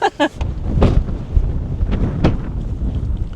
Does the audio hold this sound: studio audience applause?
no